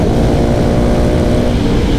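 A 2020 KTM 690 SMC R supermoto engine roars loudly and close by, a steady high-revving drone with no pauses.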